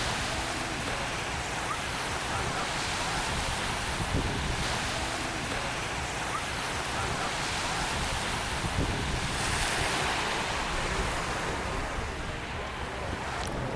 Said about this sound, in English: So I'm at Nakpan Beach.